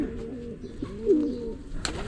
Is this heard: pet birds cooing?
yes